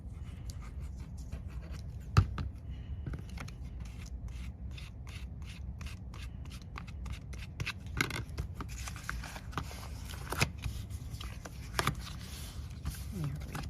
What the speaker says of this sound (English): Crease it and follow the creases to cut it.